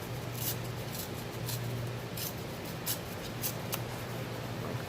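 Scissors snipping paper while a handmade Halloween mummy card is made, with a few sharp, separate cuts and crisp rustles set over a steady low background hiss.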